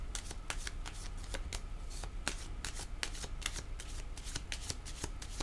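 Tarot cards shuffled by hand in a steady run of crisp riffling snaps, close and fairly loud, continuing without pause and with no voices.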